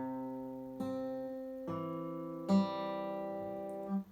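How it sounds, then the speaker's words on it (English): A fingerpicked acoustic guitar plays the second half of a song's intro pattern: three clear plucked note groups ringing over a sustained bass, close and clean, with no talking. "So the second half of the picking pattern sounds like this."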